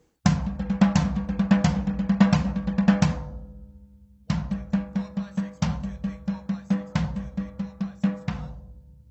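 A solo drum fill built on triplet rudiments with single and double strokes plays close and loud as rapid, evenly spaced hits in two bursts separated by a short pause.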